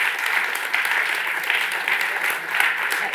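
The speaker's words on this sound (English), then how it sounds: "so please do keep the clap going." Sustained audience applause at a startup demo day event, a dense, even wash of clapping from a crowd, fairly loud and continuous throughout.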